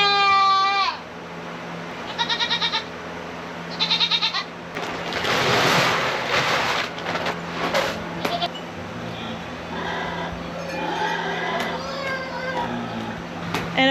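Several farm goats bleat in a loud, wavering chorus of repeated calls, close by, with other barnyard noise and rustling in between and no talking over them.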